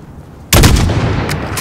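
A single loud long-range rifle shot in Call of Duty: Modern Warfare, a sharp crack followed by a long rolling echo that lingers for over a second, close and alone.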